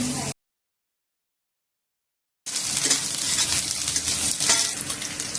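Sliced carrots sizzling in hot oil in a pan for homemade noodles: a brief burst of frying at the start, two seconds of silence, then a loud, continuous close sizzle to the end.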